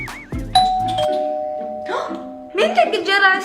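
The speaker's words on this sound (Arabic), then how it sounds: "مين دق الجرس؟" A doorbell sounds a ding-dong chime with ringing tones in a family home, followed by children's voices and chatter overlapping the fading bell.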